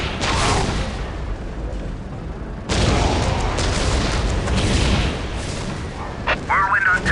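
Whirlwind artillery tank in Warhammer 40K: Dawn of War firing heavy booming rounds amid battle noise, with loud blasts at the start and midway, and a radio-style voice speaking over the din.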